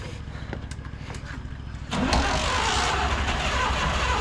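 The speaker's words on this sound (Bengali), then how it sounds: "গাড়ি স্টার্ট হয়ে গেছে, আবার বন্ধ হয়ে গেল" A kick-started motorcycle on a bike tour from Nathang valley to Siliguri, Sikkim, catches after a few faint clicks, then settles into a loud, steady engine idle.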